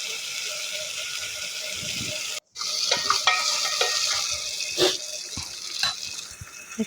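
Onions fry in a pan for potato sagu, a hiss of oil running throughout with scraping stirs and clatters, cut by a brief silence before the sizzling resumes.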